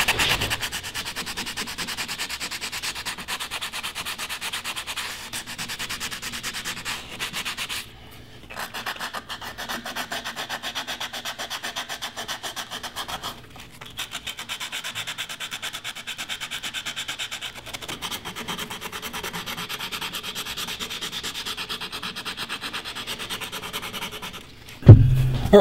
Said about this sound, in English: I'm going to go ahead and hand sand all of this